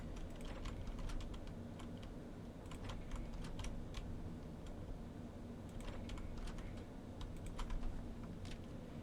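Fingers type on a computer keyboard in quick, irregular bursts of clicks, quiet and close, over a steady low background hum with no talking, while the video game Barony is being played.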